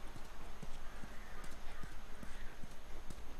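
Horse hooves clop in The Last of Us Remastered, a steady, even rhythm against a constant background hum. The footfalls are moderately close and continue throughout.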